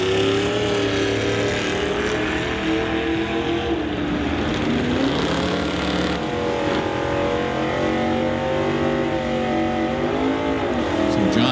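Drag race cars at an NHRA Summit ET bracket race, a purple Dodge Dart and a '56 Chevy Wagon, give a continuous loud engine roar with rising and falling revs throughout, and a voice talks over it.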